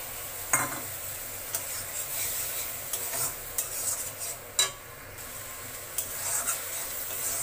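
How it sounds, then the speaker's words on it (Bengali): Cumin and mustard paste, stone-ground by hand, fries in hot oil for a sour-spicy silver carp and mango curry, a continuous close sizzle punctuated by sharp spatula scrapes and clinks against the pan. "মশলাটা আমি ভালো করে কষিয়ে নেব।"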